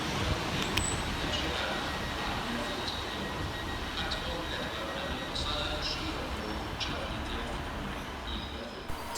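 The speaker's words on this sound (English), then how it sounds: "Departed over on the far side is 150-250, working the 1502 Transport for Wales service through to Cardiff Bay." A Transport for Wales Class 150 diesel train moves through Cardiff Queen Street station with a steady rumbling roll and occasional squeals of wheels on rails, sustained throughout with a voice heard now and then.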